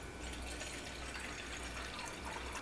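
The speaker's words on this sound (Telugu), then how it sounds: "ఒక హీటింగ్ ప్యాన్ మనం తీసుకుని అందులో 1 గ్లాస్ వాటర్ యాడ్ చేసుకోవాలి" A glass of water is poured into a heating pan, giving a steady, close rushing splash that runs without a break for the whole stretch, with no voices.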